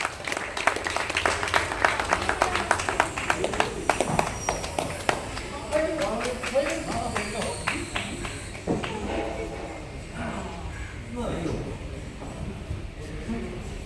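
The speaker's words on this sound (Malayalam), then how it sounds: "വീണ്ടും നല്ല ക്ലാപ്പ് കൊടുക്കാം അല്ലേ?" An audience at an Onam celebration bursts into dense, sustained clapping that gradually thins into scattered claps while voices carry over the crowd.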